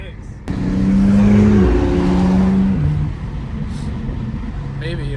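A straight-piped BMW straight-six roars past close by on a quiet backroad, a loud rising and falling engine note lasting a couple of seconds, with people talking over and after it.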